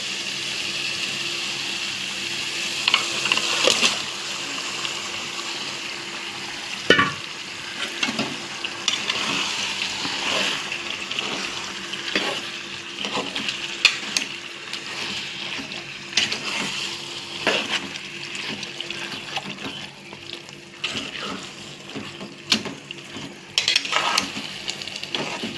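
Chicken frying in oil with potato and tomato in a pan, a steady soft sizzle running throughout with intermittent scraping and stirring clicks from a utensil, close and moderately quiet, no talking.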